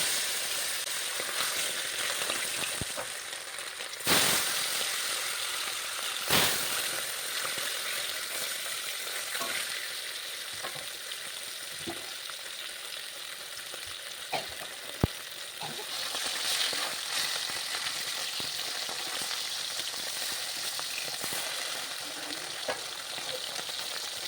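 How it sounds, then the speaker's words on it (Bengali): Small rohu and bata fish fry one by one in hot oil, a steady crackling sizzle running throughout, broken by occasional clinks and sharp taps of a utensil against the pan. "এখন মাছগুলোকে এক এক করে ভেজে নিতে হবে"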